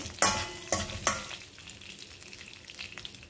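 Dried red chillies hit hot oil for a tempering, giving three sharp sizzling bursts close by that fade into a steady low crackle of frying.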